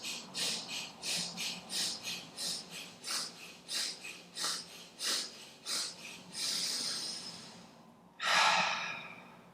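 Rapid rounds of breath during a yoga breathing exercise: about a dozen quick, rhythmic breathy puffs in and out close to the ear, then a long drawn inhale, a pause, and a loud exhale through the mouth.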